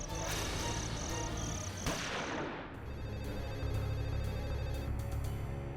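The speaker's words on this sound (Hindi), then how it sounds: "डब्बू का फोन आया होगा" A telephone rings in short repeated bursts over loud dramatic music, then the ringing stops as the music swells.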